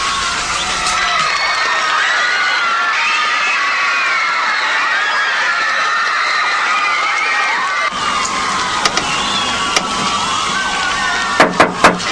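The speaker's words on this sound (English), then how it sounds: "Did you hear that crowd?" A large crowd cheers and shouts continuously, loud and dense, with high-pitched yells and whoops over a steady roar, followed near the end by a few sharp claps or bangs close by.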